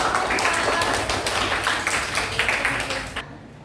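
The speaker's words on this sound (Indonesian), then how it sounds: "Boleh tepuk tangan untuk" A burst of applause from a room of people, steady clapping that holds for a few seconds and then cuts off abruptly.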